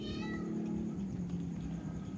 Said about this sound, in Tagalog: Pare, itim pa yung pusa, oh.